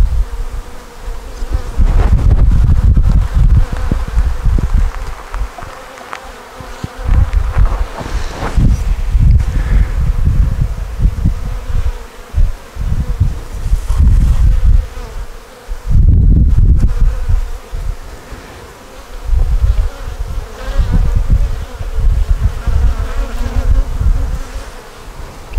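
Honey bees swarm and buzz around an open hive during an inspection, a dense droning hum that swells and fades in close, loud bursts, with breathy rustling mixed in.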